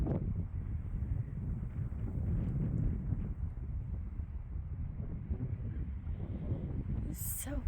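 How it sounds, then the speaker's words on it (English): Strong wind gusts by a lake buffet the microphone in a continuous low roar. The rumble surges and eases but never stops, and a brief hiss comes near the end. "It's so windy today."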